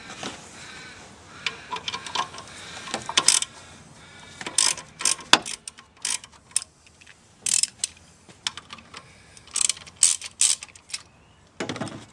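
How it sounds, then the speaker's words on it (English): A wrench backs off the locking bolt on an engine's belt tensioner, giving irregular metallic ratcheting clicks and clanks in short bursts, close and fairly quiet. "we're going to back this bolt off here, because that's the one that locks it"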